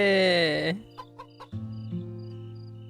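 A sick chicken in the Doraemon Story of Seasons video game gives a drawn-out, wavering call, then a few short, quiet clucks over faint background game music.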